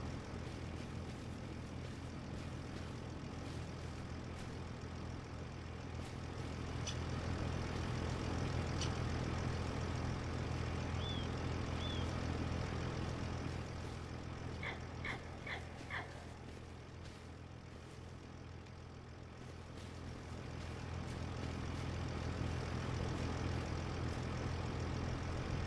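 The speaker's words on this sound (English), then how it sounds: "the sound of the engine cut out" An engine drones steadily and continuously during a land-clearing job among brambles, a broad rumbling hum swelling and easing slightly, with a few faint dog barks or chirps scattered through it.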